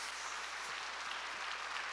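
Church congregation applauding as the pastor comes forward for a sermon, steady dense clapping filling the space throughout at a moderate level, no voices standing out.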